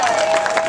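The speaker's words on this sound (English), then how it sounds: "give yourselves a big applause" Crowd noise at a PEGIDA rally in Canberra, Australia: a broad, steady wash of applause and cheering from gathered supporters, filling the whole moment without a break, with a faint sustained tone running underneath.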